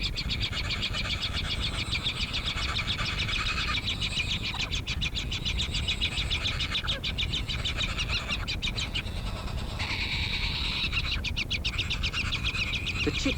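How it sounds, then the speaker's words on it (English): Cockatoos feeding their young in arid outback country near Lake Eyre give harsh, raspy, rhythmic calls over a constant noisy background, in bursts that come and go. "Cockatoos are hardy and resilient birds, well designed to cope with the rigors of arid life."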